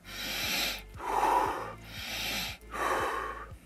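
Wim Hof breathing through the nose: four forceful, close nasal breaths in a steady rhythm, each deep inhale answered by a shorter exhale, with no talking.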